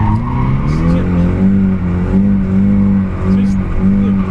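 A Nissan 200SX S14 street-legal drift car revs its engine, the steady loud engine tone rising and falling in pitch through repeated revs, with someone talking over it.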